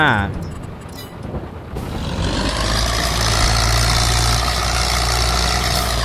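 An old tractor in the Farming Simulator 22 video game works a paddy field, its heavy engine rising after a short lull into a loud, steady roar that fills the rest of the clip.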